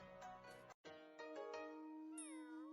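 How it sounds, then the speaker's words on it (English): A cat meows in a Flash browser game, a clear drawn-out cry heard alone over the game's background music, briefly cut off then resuming with a rising, bending tone. "Alright, Cat's not too happy about that."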